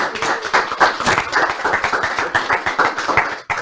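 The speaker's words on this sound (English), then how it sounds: "Please give these guys a round of applause." Audience applause for panelists at a CXPS customer-experience event in Atlanta: a dense, steady run of close hand claps lasting a few seconds, then cutting off abruptly near the end.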